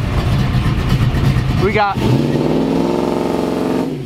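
Duramax diesel trucks rumble steadily as they line up at a shop for a father-son drag race, and one engine builds into a brief rising rev. Someone talks over the loud, close engine noise.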